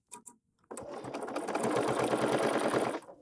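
A sewing machine runs steadily as it stitches quilt pieces together, a fast even whir that starts after a couple of short taps and carries on close and loud for a few seconds before stopping.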